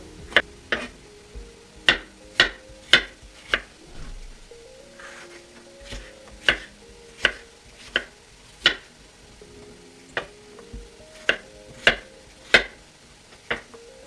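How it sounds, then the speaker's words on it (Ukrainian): Soaked, washed mushrooms being chopped on a board for mushroom soup, with sharp, irregular knife taps in short clusters and quiet pauses in between, close and clear. "Нарізаємо наші грибочки, вони вже відмочені, помиті чистенькі."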